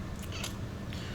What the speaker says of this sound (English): My cat is trying to sleep in my arms right now.